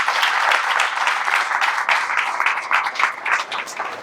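An audience at a Dr. Babasaheb Ambedkar birth anniversary worship and satsang gathering bursts into loud, dense applause, many hands clapping continuously and close for the whole stretch without letting up.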